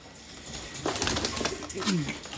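Gök tumbler pigeons coo in their coop, a few soft low calls rising near the end over a busy background of rustling and other birds, close by.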